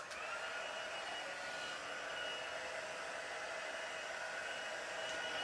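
A heat tool used to melt embossing powder blows a continuous, even whoosh like a hair dryer, steady and fairly quiet with no voices over it.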